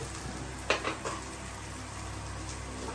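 Sabudana khichdi frying in a pan with sesame seeds just added, a steady low sizzle broken by a few quick scraping stirs and light taps of the spoon near the start.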